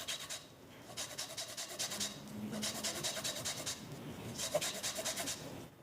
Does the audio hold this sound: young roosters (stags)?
no